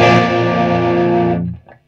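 Electric guitar through a Peavey Windsor 100-watt tube amp head with bass turned to maximum, a loud thick distorted chord ringing for over a second before being muted, followed by a faint brief scrape.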